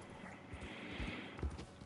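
Hooves of a slow horse in Red Dead Redemption 2 clip-clop in a quiet, uneven trot, soft and fairly close, with a couple of heavier thuds near the end.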